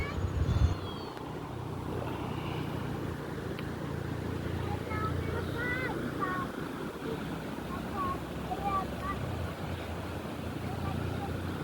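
A cold, clear, knee-deep river rushes over many rocks at Koto Japang in Solok Selatan, a steady broad wash of flowing water with people talking faintly over it.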